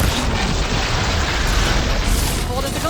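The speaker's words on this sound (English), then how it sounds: "Fire a few shots in that ballista." Ballista shots and an explosion in Horizon Forbidden West form a dense, roaring wall of booming blasts and rumble that stays loud and steady throughout, with a voice heard over the din.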